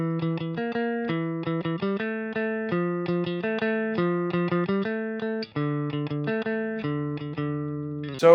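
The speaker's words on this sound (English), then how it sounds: "it basically plays around with this kind of clean riff, which sounds like this." Clean electric guitar riff, picking out arpeggiated chords as steady, evenly spaced single notes that shift between chord shapes, played alone at a constant moderate level.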